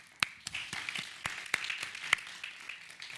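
Audience applause at a conference session on bullying and migration, a soft, steady wash of many hands with a few sharper claps standing out, fairly distant and moderately quiet.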